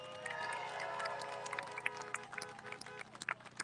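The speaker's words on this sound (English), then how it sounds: "please look around yourself again and give a round of applause" Crowd applause at an anti-lockdown rally: dense, scattered clapping from many hands mixed with murmuring voices, fairly distant and lively throughout.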